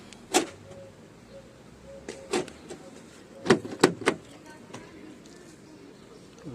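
A Fiat Linea 1.3 Multijet car door lock with a fault clicks and thuds shut in a few sharp, separate knocks close by, over a quiet background hum.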